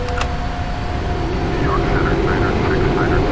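A Boeing 777-300ER jet engine in the PMDG flight simulator, flying with one engine out at max gross weight and flaps 20, gives a loud, continuous engine drone with faint voice-like sounds beneath it.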